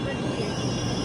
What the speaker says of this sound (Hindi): हमारी मेट्रो आ चुकी है।